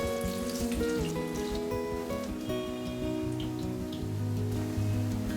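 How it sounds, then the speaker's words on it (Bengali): Jackfruit kofta balls deep frying in hot oil in a kadai give a steady, dense crackling sizzle that runs the whole time, with music playing underneath. "তেল গরম হয়ে এলে একে একে বলগুলো দিয়ে লাল লাল করে ভেজে নেব"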